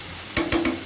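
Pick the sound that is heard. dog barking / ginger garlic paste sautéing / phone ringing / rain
ginger garlic paste sautéing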